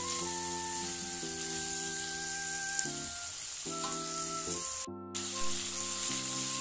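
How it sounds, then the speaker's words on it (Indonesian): A steady, close sizzle of shrimp being tossed and stir-fried in a pan runs throughout, with light stirring noises, beneath background music and a brief dropout near the end. "ngoseng-ngoseng sampai udangnya berubah warna ya"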